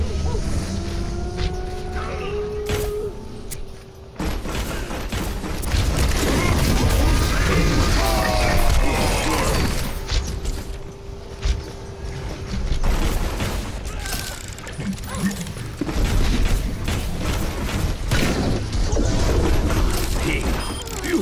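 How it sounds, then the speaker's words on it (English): Turrets get smashed apart in an Overwatch match, with repeated crashing impacts, mechanical clanks and bursts of gunfire mixed over a busy, loud game soundscape that carries on for about twenty seconds. "Turrets being destroyed!"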